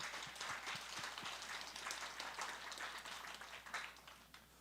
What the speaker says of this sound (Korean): 하나님께 영광의 박수를 다시 한번 더 크게 돌립시다